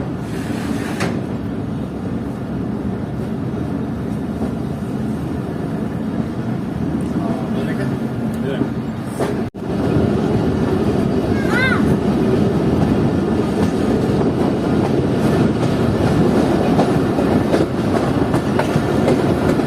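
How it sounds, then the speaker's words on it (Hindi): A Chaman passenger train pulls out of Baleli railway station, its loud, steady rumble and clickety-clack carrying from close by, with a sharp knock partway through and voices talking over it. "तो ये 2 मिनट रुकने के बाद ट्रेन निकल रही है बलेली रेलवे स्टेशन से।"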